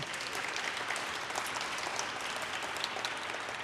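An audience at a Mayor's Women's History Month celebration applauds to welcome staff members, a steady, even wash of many hands clapping, heard from a distance.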